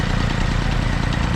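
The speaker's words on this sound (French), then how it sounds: "le moteur tourne hyper rond" A Peugeot 103 moped fitted with an Airsal 65cc T3 engine idles up close, a loud, steady two-stroke burble with a smooth, even rhythm and no talk.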